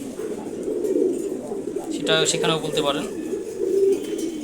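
Domestic pigeons in a loft coo in low, repeated murmurs throughout, steady and close, while someone talks over them.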